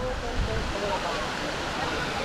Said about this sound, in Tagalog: ito yung falls number 3